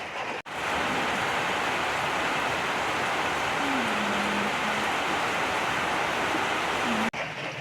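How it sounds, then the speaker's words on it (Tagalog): Heavy typhoon rain pounds down around a house flooding inside, a loud, unbroken roar of water that fills the whole stretch and stops abruptly at the end. "May bagyo baga mga kaisla at hindi na natigil ang ulan"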